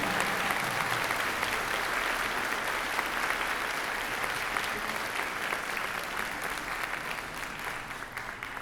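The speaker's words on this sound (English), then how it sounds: "Another final applause." Sustained applause from an audience filling a high school auditorium at a JROTC event, dense steady clapping throughout at even volume.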